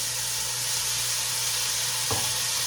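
Bay leaf and masala with coriander powder sizzling in a hot pan for a red kidney bean curry, a loud, constant hissing fry with one brief low knock near the end and no voices.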